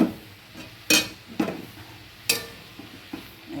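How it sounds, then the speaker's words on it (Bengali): Spices being stirred and mixed into cabbage in a pan, a few sharp spoon-on-metal clinks and scrapes spaced irregularly over quiet sizzling, close, with no talking. "এটাকে মশলাগুলোকে আমি সব মিশিয়ে নিচ্ছি"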